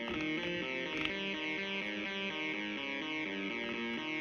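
A Woovebox synthesizer plays a sustained, distorted chord pattern with its LFO set to a sine wave, the tone gently swelling and wavering in a smooth, repeating motion, steady and moderately loud with no talking.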